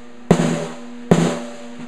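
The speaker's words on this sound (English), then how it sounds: "by pushing down, the drumstick will rapidly hit the snare drum and it'll sound something like this" Drumsticks pressed into a snare drum make two separate short buzzing rolls. Each starts with a sharp attack and rings out briefly, close up and alone.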